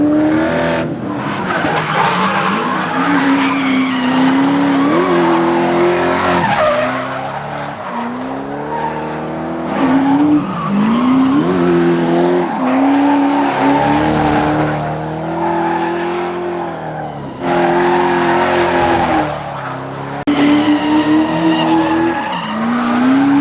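Ford AU Falcon drift car sliding hard at a big track event, its engine roaring with rising and falling revs while tires squeal continuously through long skids, loud and close.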